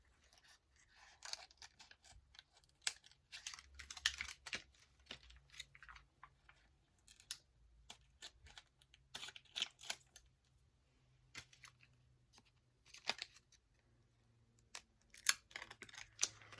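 Scissors snipping paper star pieces for crafting, quiet close-up bursts of cutting in irregular clusters with pauses between, faint and intimate with no talking.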